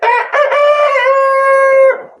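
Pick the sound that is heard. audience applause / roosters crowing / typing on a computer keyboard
roosters crowing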